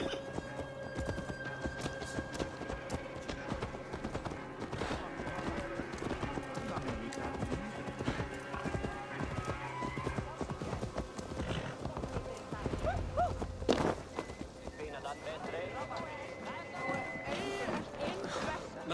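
Horse hooves clatter in a rapid galloping rhythm, with an occasional neigh, layered over game music and ambient effects in Assassin's Creed Valhalla.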